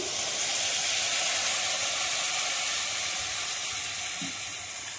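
Water splashes into hot oil in a cooking pan and sets off a loud, steady sizzle and hiss that carries on evenly for several seconds, close up, with no talking.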